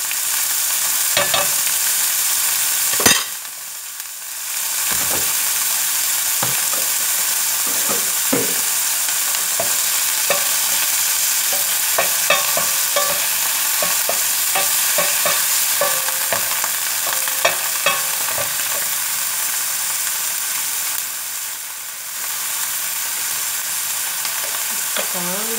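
Green beans and meatballs fry in a pan with onion, a steady loud sizzle broken by repeated scrapes and clanks of stirring, with no talking over it.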